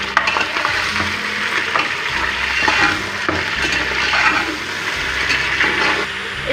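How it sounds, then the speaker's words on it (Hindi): Beef pieces and bones frying with garlic in a pot for nihari, giving a steady, close sizzle with stirring and occasional scraping, continuous throughout without voices. "तो पहले गोश्त को डाल के हमने लहसुन के साथ फ्राई करना है"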